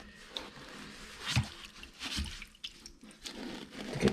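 A sponge soaks up and squeezes water out of a toilet tank during a first-time toilet installation, giving close, intermittent wet squishes and drips with short splashy bursts over a quiet background.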